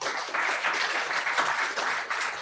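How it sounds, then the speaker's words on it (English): Audience applause at a tech meetup talk on machine learning, a brief burst of dense clapping from a small room crowd, steady and fairly close. "Give them a big round of applause."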